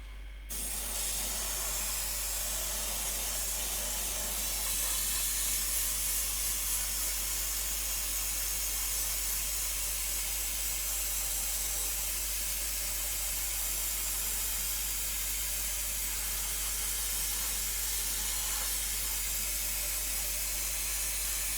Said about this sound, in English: That's my compressor running.